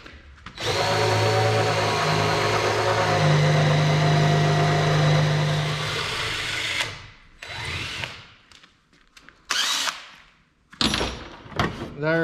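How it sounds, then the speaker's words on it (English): A power drill fitted with a DeWalt bit bores a 29/64 pilot hole, a loud continuous whir for several seconds, followed by a few short bursts of drilling and handling noise. "you're supposed to drill a 29/64 pilot hole for a half inch bit"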